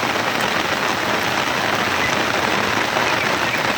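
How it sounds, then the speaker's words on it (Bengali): Heavy rain pouring down in Comilla amid flood fears, a dense, steady drumming roar on surfaces with no break throughout. "মুষলধারে বৃষ্টি হচ্ছে"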